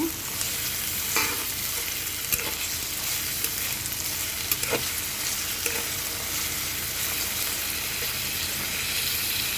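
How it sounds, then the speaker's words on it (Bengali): Onions and chilies with salt fry in a pan, a steady close sizzle broken by occasional clicks and scrapes of a spoon stirring, with no voices. "আমি এখন পেঁয়াজ আর মরিচটাকে ভালো করে ভেজে নেব"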